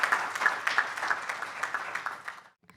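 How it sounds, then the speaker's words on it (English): A conference audience at a business summit applauds with steady, dense clapping for over two seconds, then the applause cuts off abruptly into near silence. "I would ask you to give big applause"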